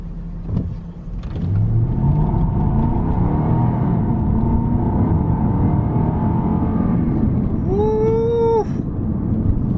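A salvage Jaguar XK accelerates at about 40–50% throttle, a steady, close engine drone with rising tones that holds for most of the clip, then a brief high whine near the end.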